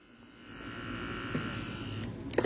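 An electric hair trimmer, a cheap model for children and women, runs with a steady buzzing hum that builds over the first half-second and holds, ending with a brief clatter.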